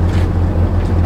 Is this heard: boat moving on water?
yes